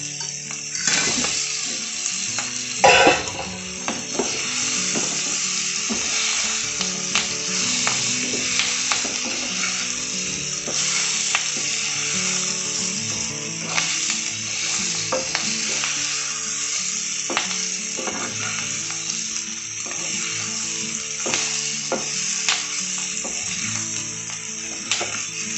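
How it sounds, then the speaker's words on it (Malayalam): Chicken pieces sizzle and fry steadily in a masala paste for restaurant-style chilli chicken, a dense, continuous crackle with occasional stirring scrapes throughout. "ഇതിലേക്ക് നമുക്ക് ഈ ചിക്കൻ ചേർത്ത് കൊടുക്കാം."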